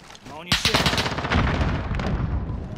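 Machine gun fire in Call of Duty: Modern Warfare opens with a sharp burst and continues as rapid, loud automatic rattling close by. A voice talks over the shooting.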